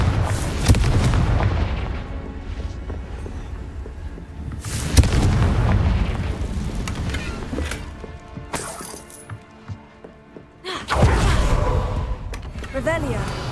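Fiery Confringo spell blasts in Hogwarts Legacy, several heavy booming explosions with crackling tails landing every few seconds, loud and close amid game sounds and a voice speaking.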